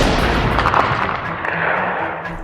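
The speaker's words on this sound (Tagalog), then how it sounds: "putok ng baril" Gunfire sound effect in a wartime Aswang horror audio story, loud echoing blasts with a rolling rumbling tail, alone without voices.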